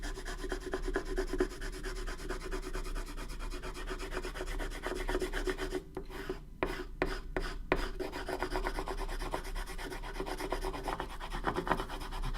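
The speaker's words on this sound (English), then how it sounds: "Do a light burnish here. Enough to get it off, hopefully." A precious metal piece is burnished by hand with a steady rasping rub that runs continuously, softly and close, and pauses briefly midway.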